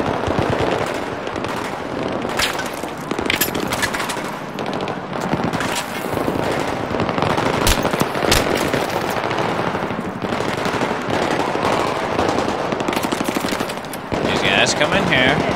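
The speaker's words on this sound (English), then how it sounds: "You're shooting at us." Sustained machine-gun fire and scattered gunshots in the video game Battlefield 3 rattle loudly and almost without pause, with occasional sharper cracks and voices mixed in underneath.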